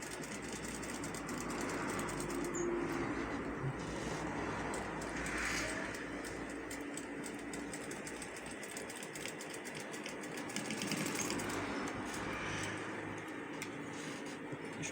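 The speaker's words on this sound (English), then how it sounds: "I'll start sewing, sew it gently." A sewing machine stitches a senator pocket, running in a steady, continuous mechanical whir with rapid needle clatter throughout, close and moderately quiet.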